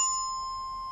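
A single orchestra bell bar struck once with a mallet, its clear pure tone sustaining and slowly fading over the full second, close and alone in quiet surroundings.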